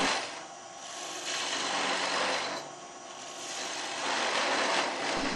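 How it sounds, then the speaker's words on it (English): A wood-turning gouge cuts stock from a spinning spindle on a Shopsmith lathe, making a steady, raspy scraping that swells and fades across several passes. The cutting is close and fairly loud, with no talking. "Back to the gouge to remove more stock."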